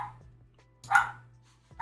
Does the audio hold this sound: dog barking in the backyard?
yes